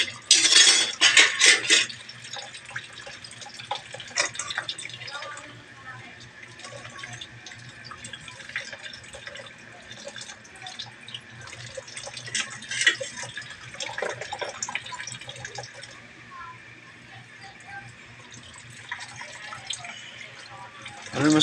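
Plates, pots and cutlery clatter while dishes are washed by hand under a running tap, with a loud burst of clinking at the start and steady water and scattered clinks after; a voice speaks faintly in the background.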